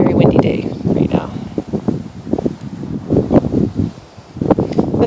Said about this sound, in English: sorry about all that wind. It's a very windy day right now.